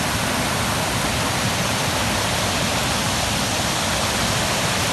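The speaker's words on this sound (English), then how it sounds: "that's the waterfall over there" Waterfall at Khopoli, Maharashtra, running below full force, gives a steady, loud broadband rush of falling water that holds constant and close throughout with no other sounds.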